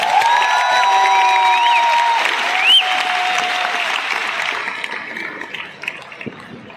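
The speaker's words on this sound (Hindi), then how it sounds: "सबके लिए एक बार जोरदार तालियां हो जाए" A large crowd at an AWPL ambassador event claps loudly. Whistles and cheers rise over the applause, which then thins out to scattered claps near the end.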